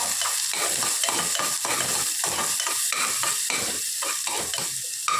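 Chopped onion sizzles in hot mustard seed oil in a pan, a loud steady frying hiss broken by regular rhythmic stirring scrapes throughout, with no talking.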